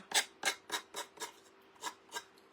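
Eight rough sanding strokes rasp against wood in a steady back-and-forth rhythm, close and fairly loud, with brief pauses between passes.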